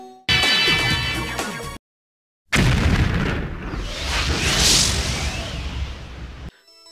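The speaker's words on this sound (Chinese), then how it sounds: "爆炸声在身后轰鸣" A loud, deep video game explosion from Hideo Kojima's Snatcher erupts after a brief silence, rumbling and crackling with debris for several seconds before cutting off.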